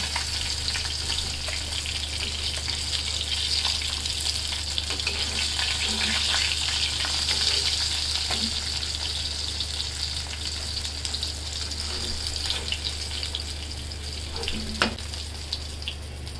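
Fish sizzling in hot oil in a home kitchen pan, a steady broadband crackle holding throughout with occasional small pops and faint utensil sounds, no talking.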